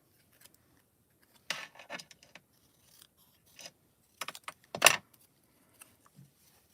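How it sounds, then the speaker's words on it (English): Scissors snip decorative card-making paper in short, crisp cuts, a few isolated snips then a quick cluster, close up in an otherwise quiet room. "So I want to cut this a little thinner."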